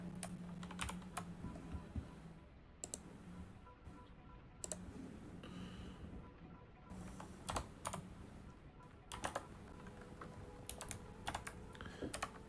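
Fingers tap a computer keyboard in uneven runs of soft clicks with sharper key strikes and short pauses, close and quiet in a calm room while someone programs, with no talking.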